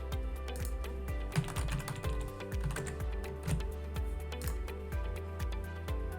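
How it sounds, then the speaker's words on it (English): Steady, close typing on a computer keyboard, with quick irregular keystrokes and occasional heavier key thumps, heard alone with no talking. "we type in the name of the repository that we're using"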